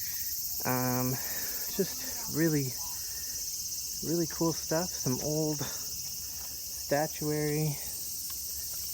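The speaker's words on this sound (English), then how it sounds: "you can hear the cicadas, those icky bugs that I just showed you" Cicadas in a Japanese park garden keep up a steady, high, shimmering drone throughout, while someone talks over it in short phrases.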